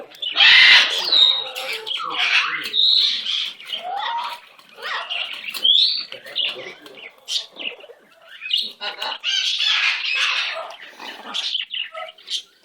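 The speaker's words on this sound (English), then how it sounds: "Love that pretty bird." A pet bird squawks and chirps up close in loud, irregular bursts and whistles, with short pauses between calls.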